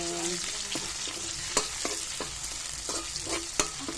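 Onions sauté in a pan for adobong sitaw, sizzling steadily up close as a utensil stirs and taps against the pan in repeated light scrapes and clicks.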